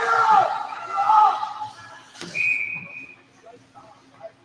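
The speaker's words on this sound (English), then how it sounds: "And a whistle." A referee's whistle at a youth ice hockey game, 10U level, sounds once as a short sharp blast amid arena crowd noise, with a commentator's voice around it.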